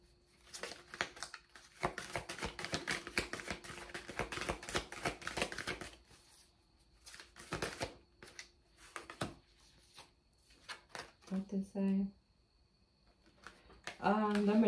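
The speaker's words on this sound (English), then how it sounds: "Just pull a few more cards." Tarot cards being pulled and shuffled from a deck during a reading, with dense riffling flutters and soft card slaps heard close up, mixed in with stretches of talking.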